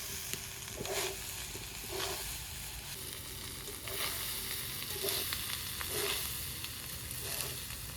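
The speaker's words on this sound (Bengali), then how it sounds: "ভাতটা কড়াইতে ঢেলে দিলাম এবার সবজির সাথে নেড়ে নেড়ে মিশিয়ে দেবো" Cooked rice tossed with vegetables and ghee in a kadai sizzles steadily, with a handful of spatula scrapes and stirs at regular intervals, close and alone.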